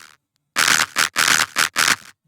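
A distorted synth bass layer with everything below 1K cut away, leaving only a bright, gritty top end that hits in five loud, choppy bursts of varying length after a brief silence.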